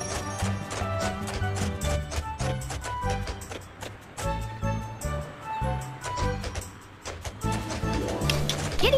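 Rhythmic clip-clop of horse hooves from the Barbie Horse Adventures: Wild Horse Rescue video game, a steady trotting beat over soft background music.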